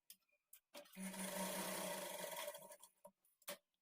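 A sewing machine runs in one steady close burst of a couple of seconds while stitching the lining of a blouse, with light handling taps around it and no voices.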